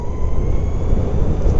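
Exway Flex Pro electric skateboard pulling away hard from a standstill, a steady loud broadband rumble of wheels and motor with no break across the short burst.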